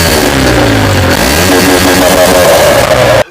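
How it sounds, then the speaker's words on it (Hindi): Modified motorcycle with a free-flow exhaust revving loudly, a dense, rough engine roar rising in pitch and held steady close by for about three seconds before cutting off abruptly. "तो अभी मैं आपको दिखाऊंगा इस बाइक का फ्री फ्लो एग्जॉस्ट का लाउडेस्ट साउंड"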